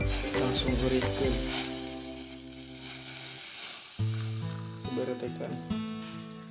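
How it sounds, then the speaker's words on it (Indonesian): Food dropped into hot oil sizzles and crackles steadily after the gas is turned off, with stirring and tonal music or background sounds running through the clip. "Langsung gorengkan."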